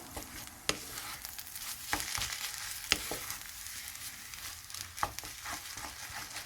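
Egg kothu parotta made with wheat parotta and eggs is tossed and mixed in a hot pan, giving a steady close sizzle broken by several sharp clinks from the spatula; no one talks.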